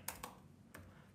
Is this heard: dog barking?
no